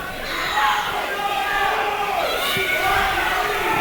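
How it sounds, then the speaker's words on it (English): Spectators at a district high school football championship cheer and roar continuously at a fairly loud, sustained level, with a commentator talking over the crowd noise. "The crowd hyping up Matt Short."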